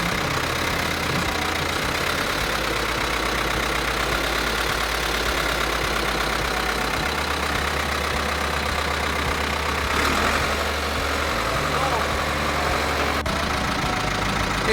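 A diesel tractor bought at auction idles steadily, a continuous low, throbbing rumble with a knocking texture, close and loud, its pitch shifting slightly partway through.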